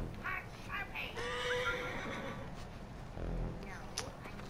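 A horse in the Assassin's Creed Origins video game lets out a whinny, heard faintly alongside background game noise and low ambience.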